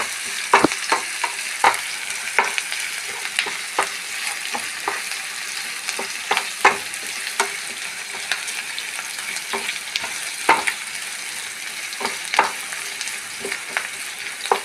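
Green chilies and curry leaves fry in hot oil in a pan for a green peas stir-fry, making a continuous close sizzle punctuated by frequent sharp spatters and stirring clicks.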